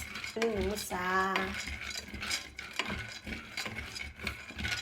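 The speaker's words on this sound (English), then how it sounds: "start to roast my fresh granules" Fresh granules are roasted in a pan on the stove. Metal utensils scrape and clink against the pan in repeated stirring strokes, moderately close, with a faint sizzle underneath.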